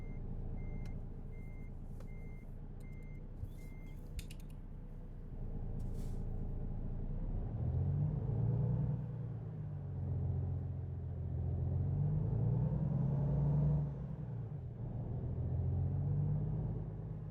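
A heavy truck in American Truck Simulator backs up with steady reversing beeps, then its engine revs and rumbles up and down in slow swells, with a short air-brake hiss.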